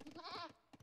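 A goat bleats in a strategy video game, a single wavering cry lasting about half a second, fairly faint, with softer game sounds before and after it.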